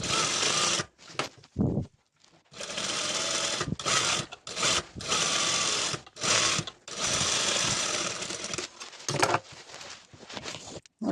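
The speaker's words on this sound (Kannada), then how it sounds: "ನಾನೀಗ ಇಲ್ಲಿ ಒಂದು ಸ್ಟಿಚ್ ಹಾಕ್ತೀನಿ" Sewing machine stitching double-lined fabric, running in long steady whirring bursts broken by short pauses, loud and close with no talk over it.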